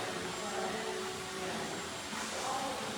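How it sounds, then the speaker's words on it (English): A hair dryer blows hair dry in a salon during a long bob haircut, a steady continuous whoosh throughout at moderate level, with quiet talking underneath. "so I can blow dry our friend here"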